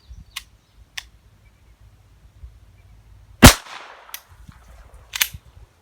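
Sparse shots from a Taurus TX22 .22 pistol loaded with Winchester ammunition: one loud, sharp crack stands out among a few fainter pops, with quiet gaps between them and no voices.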